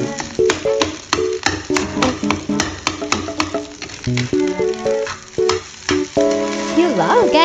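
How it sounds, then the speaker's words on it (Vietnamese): Fish fried rice frying in a pan, a loud sizzle and stirring clatter that pulses repeatedly under prominent music. "Quay thành cơm chiên với bánh chiên cá."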